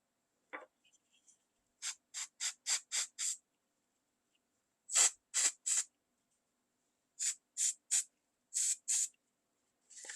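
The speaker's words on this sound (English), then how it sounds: "I might have to add more coolness with the spray." Short, hissing spritzes from a cooling spray bottle used on a chocolate flower come in quick clusters of several pumps, separated by pauses, close and fairly faint in a quiet room.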